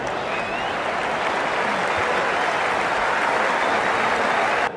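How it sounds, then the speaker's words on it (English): Light, steady applause from a cricket crowd at a Test match between India and England, broad and continuous for several seconds, with no talk over it. "a light applause from the crowd as both sides wander back to the pavilion"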